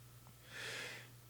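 One sneeze bursts out in a quiet studio room, a brief hissing blast that swells and fades over half a second against a constant low hum.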